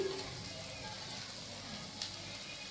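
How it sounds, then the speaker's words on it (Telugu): Grated potato frying in a pan for potato fried rice, a soft steady sizzle with faint crackles, quiet and close with no talking. "అవి కూడా పొటాటో కూడా ఫ్రై అయిపోయినాయి"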